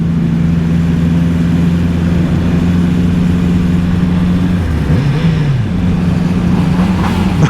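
A motorcycle engine drones loudly and steadily at close range, its pitch dipping and rising once as it pulls away and accelerates.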